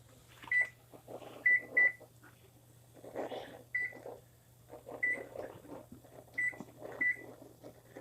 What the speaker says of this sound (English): I'm going to go ahead and set the oven